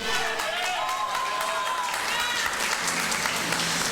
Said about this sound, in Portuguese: Adore, aplauda o nome do Senhor.